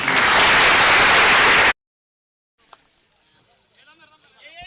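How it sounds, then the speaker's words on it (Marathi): A crowd bursts into loud, dense clapping at a cricket tournament prize ceremony, then it abruptly cuts off into near silence, followed by faint distant voices and murmur. "टाळ्या होऊन जाऊ द्या."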